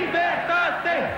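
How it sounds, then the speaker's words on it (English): A vast crowd in central Bucharest chants in unison, a dense roar of many voices rising and falling in repeated rhythmic swells. "Freedom, freedom, freedom. The vast crowd in the center of Bucharest chanted less than 2 hours ago"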